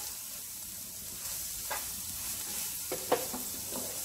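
Spices stirred and fried in a pan give a soft, steady sizzle with occasional light spoon scrapes and clicks, fairly quiet and close.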